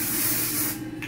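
A One Size On Till Dawn mattifying waterproof setting spray mists out in a close, steady hiss lasting about a second, with a brief pause and a short final puff.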